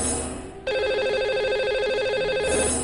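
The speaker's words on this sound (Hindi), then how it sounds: "आइए उन्हें सबसे पहले फोन लगाते हैं।" Telephone ringback while a radio host calls a lucky caller: a steady electronic ringing tone starts abruptly and continues evenly over a faint background bed.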